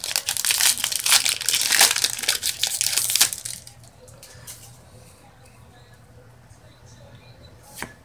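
A Yu-Gi-Oh booster pack wrapper tears and crinkles loudly and close up for about three seconds, then the handling settles to faint rustling with a soft tap near the end.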